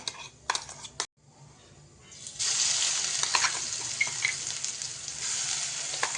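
Green chili, garlic and ginger paste hits hot oil with cumin seeds, erupting into a loud, steady sizzle after a few clinks of utensils and a brief quiet.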